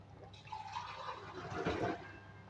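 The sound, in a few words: water poured into beef cooking pot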